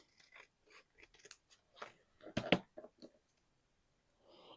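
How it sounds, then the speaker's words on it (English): Scissors snip and trim glued paper in a craft project, a sparse run of close, dry crunching cuts with one louder cluster midway and quiet gaps between. "I'm going to take my scissors and trim off that part"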